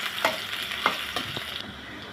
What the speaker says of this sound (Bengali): হালকাভাবে ভেজে নিব।